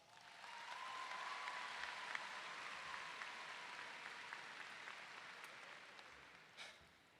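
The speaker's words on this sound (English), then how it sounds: "let's give them a round of applause." A high school graduation crowd claps for the Class of 2022 supporters, the applause swelling in, holding steady for several seconds, then tapering, with a faint tone running through.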